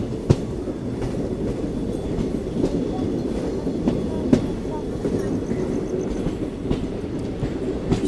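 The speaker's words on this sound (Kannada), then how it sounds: "ಒಂದು ಬ್ಲೂ ಐ ಸಿ ಎಫ್ ಹಾಕ್ಯಾರಿ ನಮ್ಮ ಟ್ರೈನಿಗೆ" Inside a passenger train running with blue ICF coaches, a continuous rumbling roll carries irregular clicks and knocks of wheels over rail joints, moderately loud and close, with no talking.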